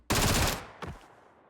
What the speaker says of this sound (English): I'm still going to shoot chest shots just to see how quickly it goes down